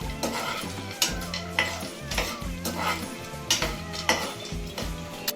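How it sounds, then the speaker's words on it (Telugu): Almonds roasting in a pan for dry fruit laddu, rattling and clinking as a spatula stirs them in uneven bursts over a light sizzle, close and without speech. "బాదం పప్పులు కొంచెం లేటుగా వేగుతాయి కాబట్టి ముందర బాదం పప్పులు వేసి వేయించుకోవాలి"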